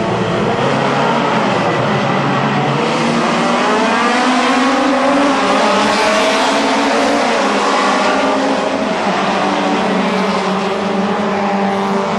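Toyota AE86 Hachiroku race cars in a one-make race on a circuit, their engines droning loudly and continuously as several cars pass, with rising and falling revs throughout.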